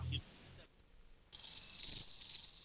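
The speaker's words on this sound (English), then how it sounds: "That's the crickets again." Crickets chirping in a steady, high, shrill trill that starts abruptly after a short silence and continues evenly to the end, loud and close with slight pulsing.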